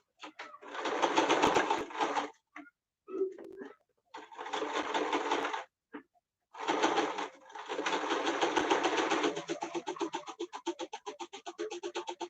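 A sewing machine runs a regular straight stitch through an elastic fabric face mask, whirring in several close bursts with brief pauses between them, ending in slower, separate clicking stitches.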